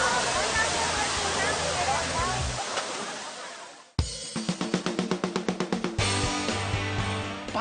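Kawasan Falls in Cebu roars as a steady broad rush of falling water for about four seconds, then the sound cuts abruptly into a rhythmic, tonal passage that does not resemble water.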